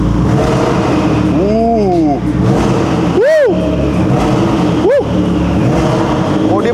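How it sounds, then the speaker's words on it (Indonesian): A McLaren 650S sports car engine revs hard in sharp bursts, a rising then falling blip followed by a bigger, louder rev and a shorter one, close and loud over a running idle, with brief voices and an exclamation. "Suara McLaren 650S."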